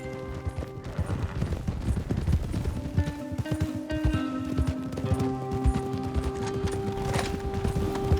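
Several horses gallop in the video game Red Dead Redemption 2, with a steady rush of clip-clopping hooves, loud and close, with a whinny and some background game noise.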